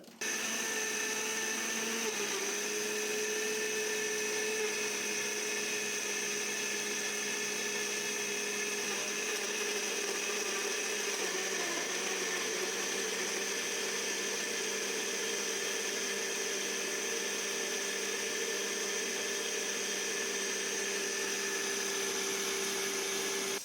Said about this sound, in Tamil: இப்போ நான் உங்களுக்கு ஒரு லிட்டர் பால் விட்டு அடிக்க போகிறேன்